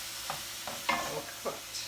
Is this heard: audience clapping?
no